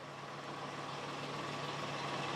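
A lorry's engine drones steadily and loudly near a heritage railway while reversing, a continuous broad rumble with a faint tonal hum and no talk.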